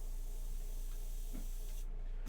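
An airbrush sprays unthinned paint onto a miniature, giving a steady, even hiss of compressed air with a few faint clicks and no voices.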